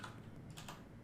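Computer keyboard keys tapped during 3D software work, a few soft, close clicks over a steady low background hum.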